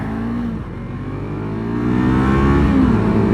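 A 1000cc motorcycle engine pulling hard under acceleration while ridden, a loud close drone that dips briefly as a gear changes, then rises in pitch and volume as revs climb.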